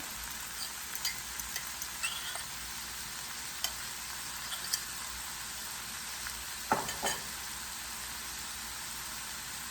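Cod fish magwinya frying in a pan of olive oil over lowered heat, a steady soft sizzle throughout with scattered faint pops and crackles, and no voices.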